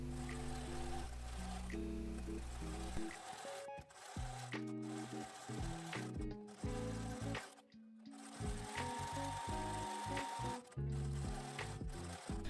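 A sewing machine stitches the hem of a jumper skirt, running in short bursts of rapid needle chatter with brief pauses between runs as the fabric is guided along.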